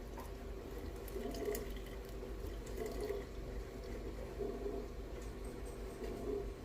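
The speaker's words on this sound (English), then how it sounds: "I'm going to add in my water, which I've already measured out. And it's 100 grams of water. Okay? So I'm just pouring that in." Measured water, 100 grams, poured from a container into a jar of sourdough starter, giving a soft steady trickling stream that runs the whole time at close range, with no talking over it.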